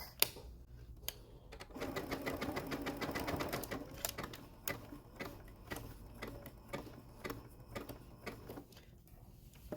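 A Melco embroidery machine stitches a rope bowl: a steady, fast mechanical needle clatter with rhythmic ticking, running close and continuous throughout with no talking.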